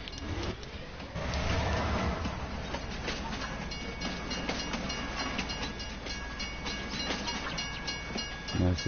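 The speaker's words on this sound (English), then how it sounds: "And now look at the diesel locomotive." A diesel locomotive pulling a train rumbles steadily in the Farming Simulator 2019 video game, with continuous rolling wheel noise and clatter at moderate distance and a brief swelling tone early on.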